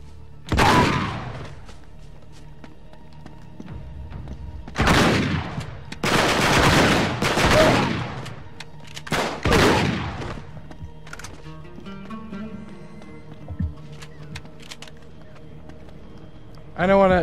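Gunfire in Uncharted 3, with several loud bursts of shots and heavy impacts spaced through a steady game background and separated by quieter gaps.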